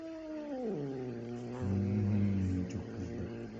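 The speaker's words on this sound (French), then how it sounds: "qui filme juste un chat qui est pas content" A displeased cat lets out a drawn-out, wavering growl that slides downward, then rises into a louder yowl before trailing off, close and alone.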